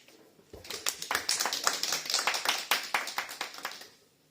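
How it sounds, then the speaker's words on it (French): A small church congregation claps for a few seconds; the sharp claps swell quickly, hold briefly, and then taper off. "On l'applaudit."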